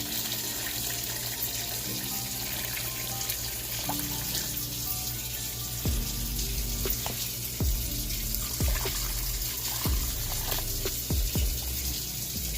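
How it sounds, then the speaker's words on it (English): Water runs steadily into a roasting pan, a continuous splashing hiss with a few clinks and knocks near the end. "now I'm just gonna add the water"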